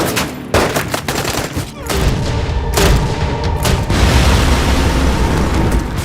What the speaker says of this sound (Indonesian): Akhirnya setelah pertempuran singkat itu dan Bob Lee berhasil menyingkirkan semua musuhnya